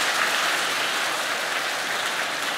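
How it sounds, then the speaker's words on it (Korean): A church congregation at a special early-morning family prayer service claps together in a dense, even burst of applause, sustained and fairly loud with no voices over it. "우리 박수 한번 쳐주세요."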